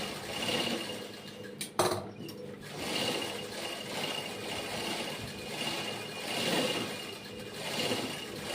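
A sewing machine stitches cloth in a tailoring workroom, its steady mechanical whirring rising and falling in long waves, with a brief sharp clatter partway through.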